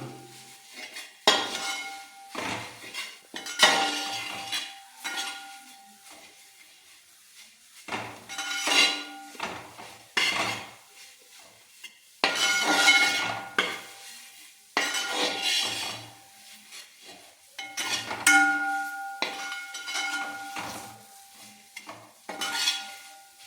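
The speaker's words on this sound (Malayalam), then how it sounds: "എല്ലാം നമുക്ക് ഇളക്കി കൊടുക്കാം" Spice powders are stirred in a pan for bitter gourd curry: repeated bursts of metal spoon scraping and clinking against the pan, separated by short quiet gaps, with a faint sizzle underneath.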